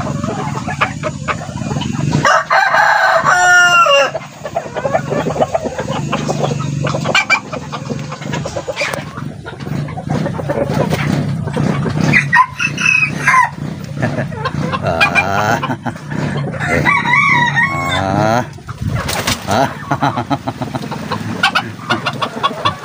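Four roosters and a hen in a Philippine backyard setting, with repeated loud crowing calls and clucking, close and prominent, interspersed with rustling and other farm noise.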